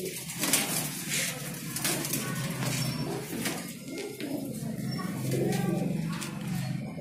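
Pigeons coo steadily and close by inside a pigeon shop in Delhi, the soft layered calls overlapping with chatter and movement throughout.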